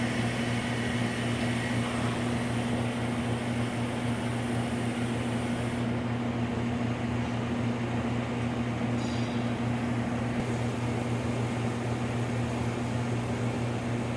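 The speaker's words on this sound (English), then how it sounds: "I'll refill this oven using the refill valve" A Vacuum Atmospheres VT-523-3 glove box antechamber oven refilling with gas through its refill valve gives a steady, continuous hiss over a constant low mechanical hum, with no talk.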